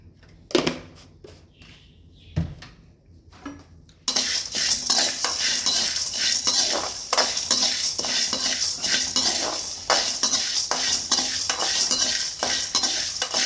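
Idli podi ingredients dry-roasting in a pan, a few sparse metal clinks at first, then a sustained close sizzle with rapid, repeated scraping of a spatula against the pan.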